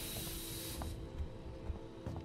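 Steam hisses in the video game Alien Isolation, a steady broadband spray of vented gas inside a run-down station, continuous and fairly close, with faint mechanical clanks beneath it.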